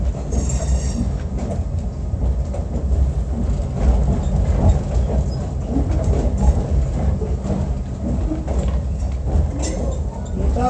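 A SAM Shortline train rolls between Cordele and Americus, Georgia, a steady loud rumble of rail cars with faint wheel clatter and occasional squeals, continuous throughout with no talk.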